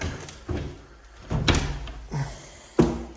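A balcony door in an old village apartment opening, with a handful of distinct knocks and thumps spread across a few seconds, close by and fairly loud.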